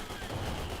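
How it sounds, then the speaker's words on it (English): Incendiary mortar barrage in the World War II strategy game Company of Heroes 2, heard as a short burst of dense, crackling explosive impacts and rumble with no voices. "we do have incendiary mortar barrage on top of the mortar emplacement"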